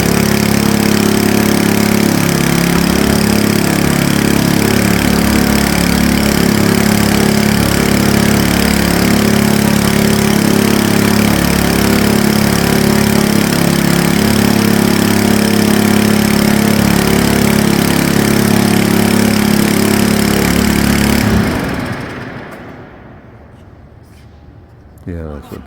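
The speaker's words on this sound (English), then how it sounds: "Apparently they're going to spin the props in here. Oh, I think they are pre-oiling the engine." A26 aircraft piston engine being pre-oiled as the propellers are turned over, a loud steady droning run that cuts off abruptly after about 21 seconds, leaving near quiet.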